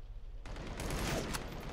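Rapid gunfire from a weapon in a VR Planet of the Apes game bursts in loud and close after a short quiet lead-in, then continues as a sustained rattling volley.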